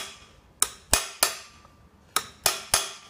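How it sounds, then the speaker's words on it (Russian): A blunt screwdriver is tapped to crimp a bearing edge while a driveshaft is being repaired and its centre support bearing replaced on a Land Rover Discovery 3, giving six sharp, close metallic knocks in two groups of three. "При этом постукивать так вот."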